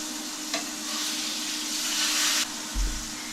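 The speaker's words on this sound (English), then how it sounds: "we're going to finish frying these 2 pieces" Pork fried steaks sizzle in a pan with a steady, close hiss and crackle, swelling briefly before a soft knock near the end, with no talking.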